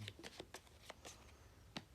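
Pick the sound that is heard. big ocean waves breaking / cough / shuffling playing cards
shuffling playing cards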